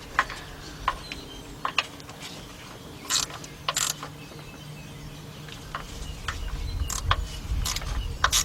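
A 3/8 inch ratchet wrench works on the water pump of a 1977 Buick LeSabre 5.7, its pawl clicking in repeated short bursts and runs, close up and moderately loud, with a low mechanical rumble rising toward the end.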